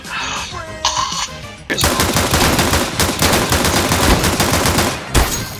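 Video game gunfire from a shooter match, with a short tonal passage first, then a long loud stretch of dense, rapid automatic shots that cuts off briefly before one more burst at the end.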